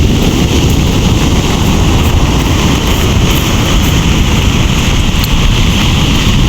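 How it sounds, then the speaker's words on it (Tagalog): Strong wind gusts across a microphone at the seashore, with waves and surf rumbling beneath, a steady loud roar throughout with no voices. "Lakas po ng hangin guys,"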